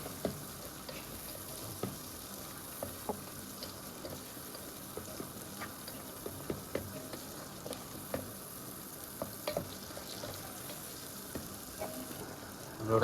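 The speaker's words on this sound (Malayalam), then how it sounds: "നല്ലവണ്ണം വഴണ്ട് വരട്ടാം. എല്ലാം ഒന്ന് ബ്രൗൺ കളർ ആവണം ഉള്ളി." Small shallots frying in oil for a mutton curry, a steady close sizzle running throughout, with scattered scrapes and clicks of a spoon stirring the pan and a louder burst at the very end.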